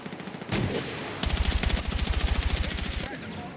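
Gunfire from guns in the Battlefield 6 multiplayer video game: an initial blast, then a rapid automatic burst of evenly spaced, loud, punchy shots rattling for nearly two seconds before cutting off.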